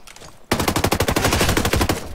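Automatic gunfire in the video game Ghost Recon Breakpoint: after a short quiet lead-in, a loud close burst of rapid, evenly spaced shots hammers on for well over a second, with no talk over it.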